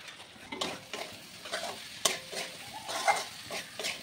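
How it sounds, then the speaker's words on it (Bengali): Soaked vegetables with a little sugar sizzle and crackle as they are stirred in a hot pan, with scraping strokes of a spatula at a steady, close rhythm and no voices. "এটাকে ভালো করে কষিয়ে নিয়ে এবার আমি ঢাকা চাপা দেব একটা।"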